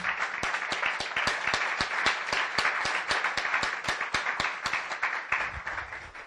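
A church congregation breaks into applause during a sermon, dense steady clapping from many hands that carries on without a break for several seconds, with a bright, reverberant, hall-like spread.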